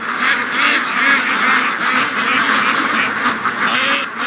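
A loud, dense chorus of free-range geese honking nonstop and flapping their wings close by, many overlapping calls blending into one continuous clamor.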